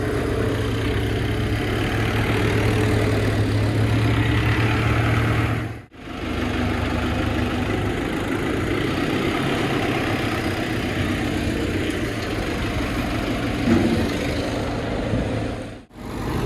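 A tractor engine idles close by with a steady low rumble and faint vibration, briefly cutting out twice before resuming.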